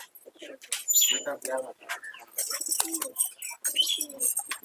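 Malwai pigeons let loose from their enclosure, with soft coos and scattered bird calls mixed with rustling and wing movement, heard close, while people talk nearby throughout.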